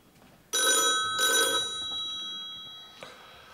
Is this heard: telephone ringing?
yes